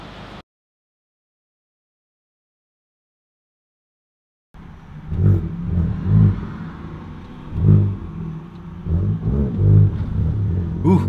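A car with a BFI Stage 4 six-puck clutch drives along after near silence, its engine rumbling and surging in repeated revs with interior clatter, fairly close and loud.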